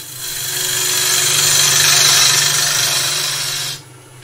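Wood being cut on a lathe with a hand-held tool, a steady loud scraping hiss over a constant low machine hum, swelling slightly before ending abruptly near the end.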